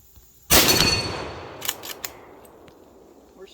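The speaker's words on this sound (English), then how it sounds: "see if I can put these 3 rounds on target and ring some steel" A Savage 99 lever-action rifle fires one sharp, loud shot at an outdoor range, followed a moment later by a few faint, quick pings of steel targets being hit as the echo decays.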